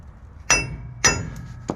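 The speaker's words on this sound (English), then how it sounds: "So I'll just go ahead and tap it with a hammer." Hammer strikes tapping a stuck rear brake part on a 1998 Chevy 3500 dually one-ton truck: three sharp metallic blows with ringing clinks, about half a second apart, close and alone.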